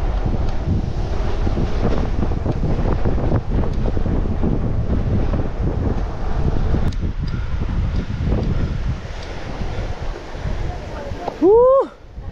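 Strong wind roars and buffets the microphone in a constant heavy rumble at a campsite, with a brief voice and a short tonal sound near the end.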